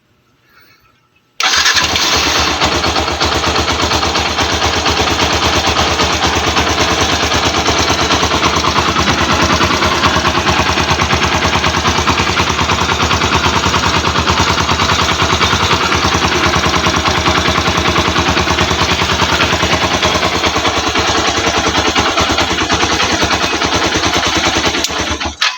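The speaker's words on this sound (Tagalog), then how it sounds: "Yan, binuksan na natin yung motor. Naka-on na siya. Start natin." A Yamaha SZ motorcycle engine starts after a brief quiet moment and then runs continuously at a loud, steady idle with a rapid rattling pulse, close to the listener for over twenty seconds.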